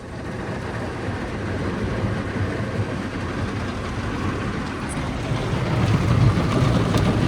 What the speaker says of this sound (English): It's an XS2, Ryko Softgloss XS2 with the onboard dryers.